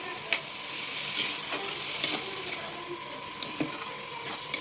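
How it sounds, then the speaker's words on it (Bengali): Grated coconut and jaggery being stirred together in a pan, with a steady soft sizzle and scraping throughout and a few sharp clicks of the spoon against the pan. "ভালো করে নেড়ে এটা মিশিয়ে নেব গুড়টা, যাতে নারকেল আর গুড় একসাথে ভালো করে মিশে যায়।"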